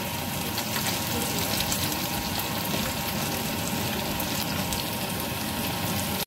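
Chicken flautas, rolled tacos, frying in hot oil, a loud continuous crackling sizzle that stays steady throughout, close and without talk.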